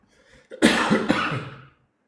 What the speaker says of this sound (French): Je viens de tousser, hein?